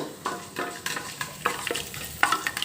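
Drumsticks and soaked chana dal frying in a pan, with close, repeated stirring scrapes over a crackling sizzle and no voices.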